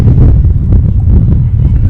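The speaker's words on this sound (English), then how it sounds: "we are dealing with some windy conditions here" Strong wind over an outdoor college softball field in Sherman, Texas, buffets the microphone in a loud, continuous low rumble with gusty fluctuations and no clear talk.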